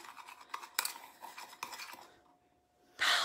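Sugar being mixed in a clear bowl for a homemade lip scrub, with scraping and clinking strokes of a utensil, several short bursts close by, a quieter pause, then a louder final scrape.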